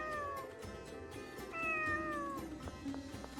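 A cat meows in the video game Tales of the Abyss, with a few clear, close meows that rise and fall over a faint background, no talk.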